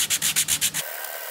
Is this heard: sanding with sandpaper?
yes